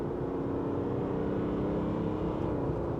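A 2023 GMC Sierra 1500 AT4 pickup truck accelerates hard, its engine giving a steady, low droning roar heard from inside the cab at moderate level, with no speech.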